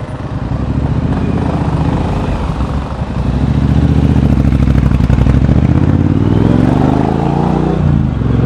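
A motorcycle engine runs steadily and close by throughout, rising in pitch as the rider revs and accelerates after a few seconds, with no voices over it.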